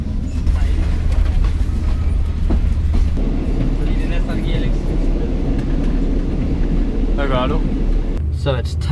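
Inside a train travelling through stormy weather with thunder and rain, a steady low rumble and rattle of the carriage fills the whole stretch while people talk faintly nearby.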